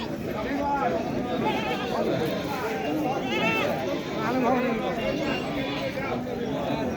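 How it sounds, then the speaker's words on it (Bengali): Goats bleat repeatedly at the crowded Taherpur goat market, several wavering calls overlapping amid the chatter and talk of many people. "দর্শক আপনারা দেখছেন তাহেরপুর ছাগলের হাট"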